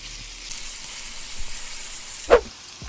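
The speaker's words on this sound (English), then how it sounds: "You hear the sizzle?" Food sizzles loudly in a hot pan, a steady crackling hiss that starts abruptly, with a brief clatter of a utensil near the end.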